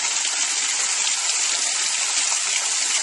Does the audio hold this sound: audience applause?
no